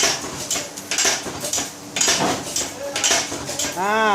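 Stamped metal amulet coins, in copper, brass and alpaca silver, clink and jingle in quick bursts as they are packed into a bag, with bright metallic rattles, close and loud, and a ringing chime at the end.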